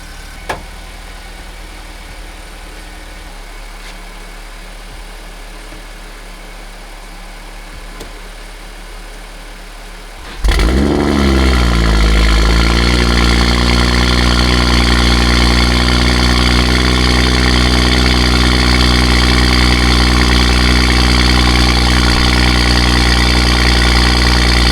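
A Stage 2+ tuned BMW 340i sits quietly at first, then its engine fires and settles into a loud, steady idle with a deep, even drone that continues to the end. The idle is close and heard alone without talk.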